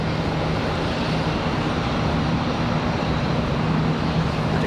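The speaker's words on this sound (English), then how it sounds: "The arrival in the background is coming in from Minneapolis, American Airlines 3099" An American Airlines airliner arriving from Minneapolis at Charlotte Douglas International Airport gives a steady, loud broadband jet roar with a low engine drone, continuous across the whole stretch.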